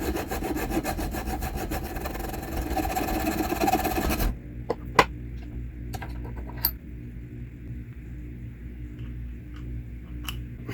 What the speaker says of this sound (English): So we'll put this back in the vise and file a little flat spot.